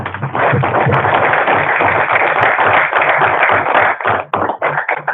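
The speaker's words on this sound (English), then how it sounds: "Can we give them a round of applause?" A board meeting audience gives a round of applause, a dense, loud burst of clapping that holds for several seconds and then thins into scattered claps at the end.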